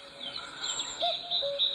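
Birdsong outdoors in bushland, with a steady wash of high chirping and a few clearer whistled notes rising above it, moderately loud and with no one talking.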